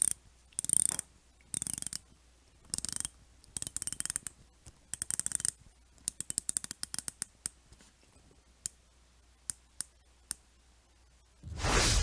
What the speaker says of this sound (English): The click action itself feels a little springy with a slightly tinny sound.